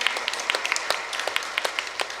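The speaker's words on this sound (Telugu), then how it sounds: "అలాంటి సత్యాన్ని తెలుసుకున్న మనందరికీ ఒకసారి గట్టిగా చప్పట్లు కొట్టుకుందాం." An audience at a Telugu health workshop claps together, with bursts of sharp, uneven hand claps that sound moderately close and carry no talk.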